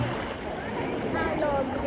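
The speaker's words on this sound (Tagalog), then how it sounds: "Lakas ng alon." Strong sea waves surge and wash at a beach resort in Bolinao, a steady broadband roar throughout, with a voice speaking over it.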